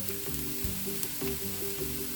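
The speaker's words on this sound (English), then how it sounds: "sizzling food in the hot saute pan" Steady, bright sizzling of food frying in olive oil in a hot sauté pan, continuous and close, with faint clinks of a utensil.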